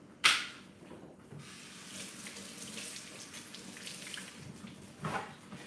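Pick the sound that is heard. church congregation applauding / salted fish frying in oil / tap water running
tap water running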